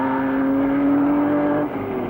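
Alfa Romeo race car driven by Fangio on open roads, a sustained high engine drone with a steady pitch that dips slightly as it runs, loud and close, no voices.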